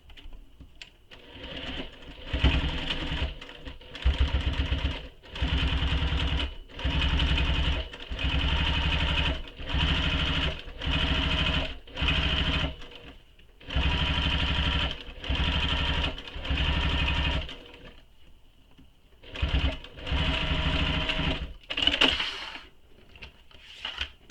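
A sewing machine bastes the sides of a fabric pocket with a long stitch length, running in steady, loud bursts of a few seconds each, separated by brief pauses.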